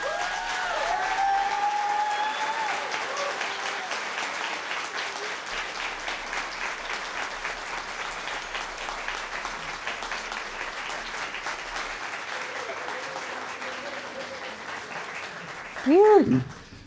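An audience at an immigrant storytelling evening applauds, steady sustained clapping filling the room for a long stretch, with a voice and a brief louder burst near the end.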